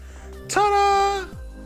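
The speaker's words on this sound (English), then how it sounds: "I'm just going to use my jigsaw and cut out those marks that I put onto that step" A jigsaw cuts into a wooden stair step in one short burst under a second long: the motor whines up, holds a steady pitch, then stops, close and fairly loud.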